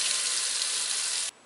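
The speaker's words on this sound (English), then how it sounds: "Next, turn some water faucets on." Water runs hard from house faucets while a well pressure tank drains, a loud steady hiss that cuts off abruptly near the end, leaving quiet.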